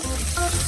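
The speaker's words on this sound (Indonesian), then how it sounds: "Sekarang aku perlu menggoreng daging ini." Meat frying in a pan, a steady close sizzle with faint stirring, continuous through a short stretch with no talk.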